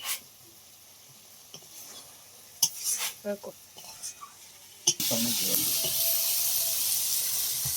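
Snail curry with potatoes being stirred and cooked down in a pan: scattered clinks and scrapes of a spatula, then a loud, steady sizzle that fills the last few seconds, with no talk.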